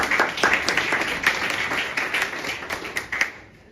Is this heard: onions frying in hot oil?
no